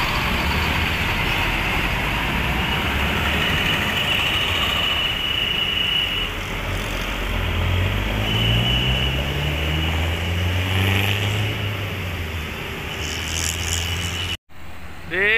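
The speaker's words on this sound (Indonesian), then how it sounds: "Ada bus Jadi Jaya pariwisata menuju Kuningan." Jadi Jaya tour bus passing at a three-way road junction in Ciperna, Kuningan, with engine rumble and steady traffic noise building and fading, a horn-like tone in the middle.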